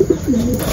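Racing pigeons cooing at the loft after returning home, a single short, close, soft throaty coo.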